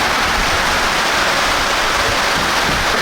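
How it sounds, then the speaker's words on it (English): Heavy rain pours down steadily, a dense, loud roar of water with no letup throughout. "That's some legit rain."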